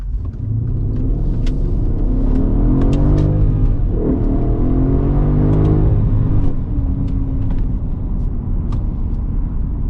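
Mercedes ML63 AMG engine accelerates with a deep, loud rumble that climbs in pitch, dips briefly at a shift, then keeps pulling and roaring close by for the whole stretch.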